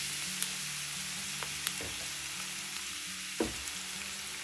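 Large chopped onion frying in four tablespoons of hot oil for a restaurant-style chicken masala, a continuous close sizzle broken by occasional sharp spoon taps and stirring scrapes, with no voices.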